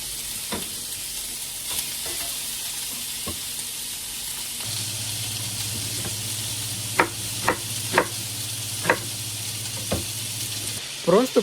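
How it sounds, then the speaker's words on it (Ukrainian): Pork lard (salo) fries in a pan with a constant bright sizzle, joined midway by a low steady hum and a handful of sharp taps near the end, close and without speech. "А поки я прожарую сало"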